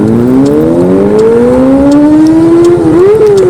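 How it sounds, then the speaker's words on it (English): An engine rises steadily in pitch as a motorbike approaches and passes close by, loud and continuous with a brief dip near the end. "I hear another biker."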